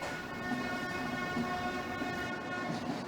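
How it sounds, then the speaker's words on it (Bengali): A train rolls into the platform at Rajshahi station in Bangladesh after a derailment recovery, a steady droning engine hum with tonal whine and faint rhythmic wheel clatter, fairly distant and constant. "ট্রেনটি আসলে স্টেশনের প্ল্যাটফর্ম থেকে 2 থেকে 3 রেল যে পেছনে ছিল সেটি উদ্ধার করে এখন কিন্তু প্ল্যাটফর্মে প্রবেশ করছে"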